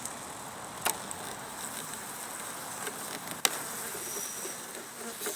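Honeybees buzz in a steady, close hum as a brood-and-a-half hive is opened for inspection and Apivar strip removal, with a couple of sharp clicks from handling the frames.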